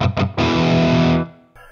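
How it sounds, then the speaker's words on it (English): Distorted electric guitar through an Axe FX 3 with a basic room reverb: a couple of short chugs, then a loud sustained chord ringing out and decaying into a brief reverb tail before a cutoff. "And we have a basic room reverb."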